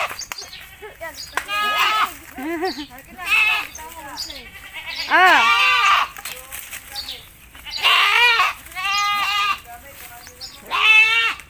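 Goats bleating repeatedly during a goat-herding challenge in a rural provincial setting, loud wavering cries coming in bursts from close by, with people shouting and talking between them.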